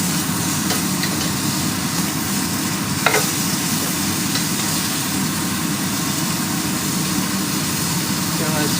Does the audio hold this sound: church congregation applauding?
no